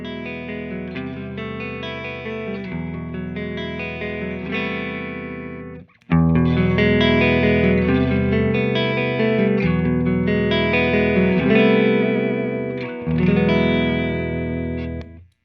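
Electric guitar played through a distorted, effects-heavy amp with no TC Electronic Spark Booster pedal engaged, loud sustained chords ringing alone with a brief break near the middle.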